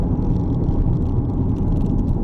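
Steady low rumbling road noise from a 2020 Chevrolet Equinox 1.5 Turbo SUV rolling over bumpy cobblestones, loud and continuous with no talking.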